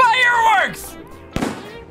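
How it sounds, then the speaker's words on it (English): Fireworks going off in the Backrooms video game, a sharp crackling burst standing out late in the clip after excited voices shouting over the game. "Fireworks! Fireworks!"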